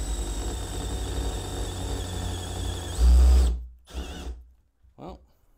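A power drill whirs steadily, boring into wood, then a loud thump, followed by a couple of short bursts of the drill starting and stopping.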